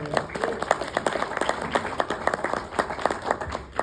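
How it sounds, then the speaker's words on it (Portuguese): A church congregation at a Bible-school sermon breaks into lively applause, with dense, uneven clapping close by and a few sharper individual claps standing out. A faint voice can be heard in the mix. "Dá para aplaudir o Senhor por isso?"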